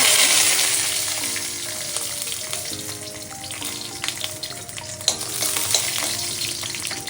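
Dried red chillies and bay leaves hit hot oil with a loud, close sizzle that hisses strongly at first and gradually settles, broken by a few sharp clinks of a stirring utensil against the pan.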